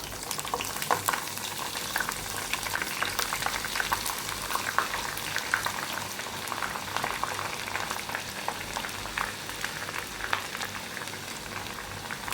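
Chopped vegetables for an instant pickle fry in hot oil with mustard seeds, a steady, dense crackling sizzle with small popping bursts that continues evenly at close range, with no talk.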